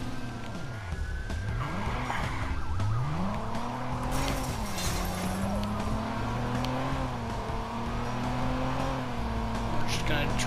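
A car in the video game Watch Dogs driven fast, its engine whining and rising and falling as it accelerates, with screeching tire squeals and skids over a steady, loud game soundtrack.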